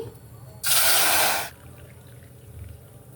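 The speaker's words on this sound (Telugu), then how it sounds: "ఈ కప్పుతో రెండు కప్పులు వాటర్ వేసుకోవాలండి" A short, steady rush of water pours into a pot of tamarind for about a second, then stops, leaving quiet background noise.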